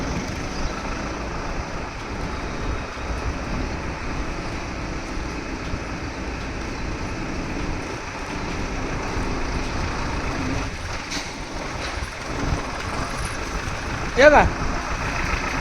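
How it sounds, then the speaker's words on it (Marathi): Dindi pilgrimage vehicle pulling away from the Gokul complex, a steady broadband road rumble with passing traffic noise throughout, voices talking briefly over it near the end. "आता बघा गोकुळ कॉम्प्लेक्समधून आपली ही दिंडीची गाडी निघालेली आहे"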